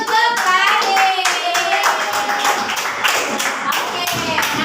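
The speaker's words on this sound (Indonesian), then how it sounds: "tepuk tangan untuk Radit" Students in a classroom clap for a classmate named Radit after his correct answer, a lively run of quick rhythmic hand claps, fairly close, with children's voices mixed in among the beats.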